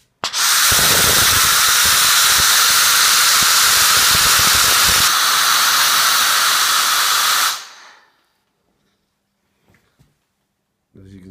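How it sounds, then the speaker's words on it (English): Steam treatment during a bedbug heat fumigation by a pest control service in Brighton, a loud, close, steady hiss lasting about seven seconds before it cuts off into near silence with a few faint clicks. "Shortly you'll be able to see that how effective the steam treatment is."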